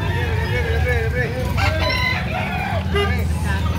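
A rooster crows at a busy rooster sale in Carbon, Cebu, its calls rising over steady market chatter and crowd noise, with people talking throughout.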